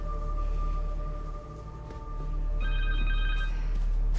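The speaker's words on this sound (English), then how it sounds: "Connors' cell phone." A cell phone rings in the Spider-Man 2 video game, a steady electronic tone that shifts to a higher, brighter pitch partway through, sounding over a constant low hum with no voices.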